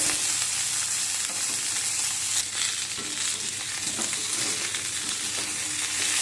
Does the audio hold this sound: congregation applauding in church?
no